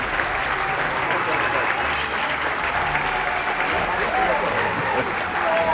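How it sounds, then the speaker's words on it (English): Audience at an awards ceremony applauds the student cluster competition participants with loud, continuous clapping and crowd murmur, voices mixed in throughout. "give them a great round of applause"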